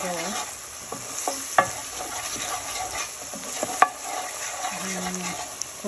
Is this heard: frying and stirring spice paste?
yes